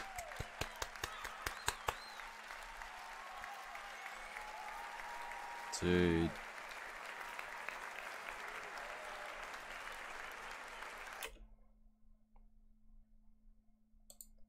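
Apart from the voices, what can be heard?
applause and clapping in a music video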